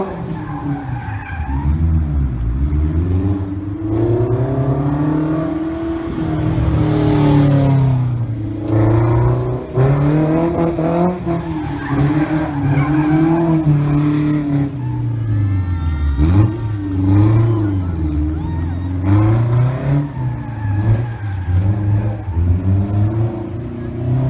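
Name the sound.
Factor Aurelio mid-engine car doing rear-wheel drive donuts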